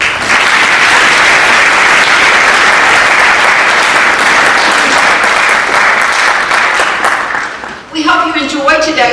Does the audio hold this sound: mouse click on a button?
no